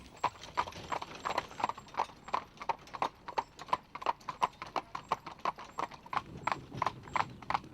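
At a stud farm in Slovenia, horses' hooves clip-clop in a steady, regular rhythm on a hard surface. The hoofbeats are faint and fairly distant.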